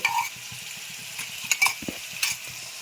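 A paste of ginger, garlic, green chilli and coriander fries in spices for dhaniya chicken, with a soft sizzle under repeated scraping and stirring knocks from a spoon against the pan.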